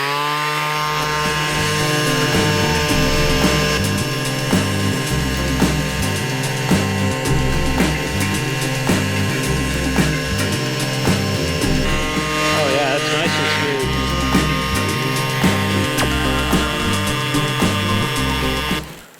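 A power sander with a Diablo sanding disc runs continuously over a countertop, giving a steady, loud whirring drone with a rhythmic pulsing pattern throughout and no talk over it.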